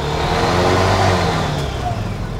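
A Honda Revo motorcycle engine, repurposed to drive an alternator, revs as it is being started, a loud close mid-pitched drone that rises and holds, with people talking briefly nearby.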